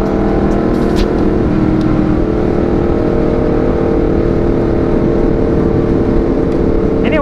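A Honda CBR 250RR motorcycle engine on a night ride in Indonesia: a loud, steady, continuous drone with rushing wind, and no voices.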